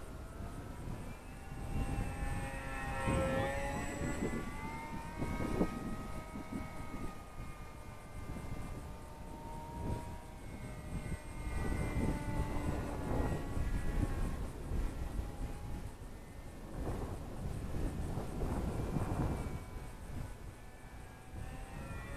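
An Eachine ATOMRC Seal Wing G1500 FPV glider in its 1100 mm wingspan setup flies with the throttle eased back, giving a steady, moderately faint motor drone that swells and fades slightly as it passes, with no voices.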